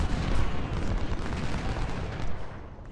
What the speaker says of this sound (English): What artillery do they have shooting us over here?